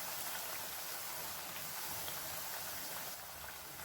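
Sweet rolled wheat-flour puri frying in hot oil, a steady dense crackling sizzle that holds at an even, fairly loud level throughout, with no voices over it.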